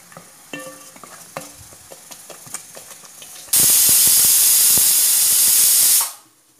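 Spoon scraping and clinking as turmeric is stirred into sambar vegetables cooking in a pot, then a sudden loud steady hiss of sizzling steam for a few seconds before cutting off.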